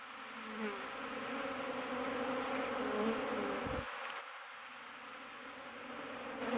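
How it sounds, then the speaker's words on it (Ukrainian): Buckfast honey bees pour out of the hive on a cleansing flight, a dense, continuous buzzing swarm close around the listener, with a brief dip midway before the hum resumes. "Так обльотується бакфаст."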